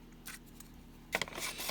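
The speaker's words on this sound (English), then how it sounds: "you're going to cut your circles out." Scissors snipping out paper circles for craft embellishments, a faint short snip early on followed by a louder burst of close crisp cutting strokes near the end.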